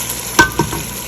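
Meat and masala fry and get stirred in a pot, giving a sharp scraping stir stroke followed by softer sizzling and shuffling, close and loud, with no voices.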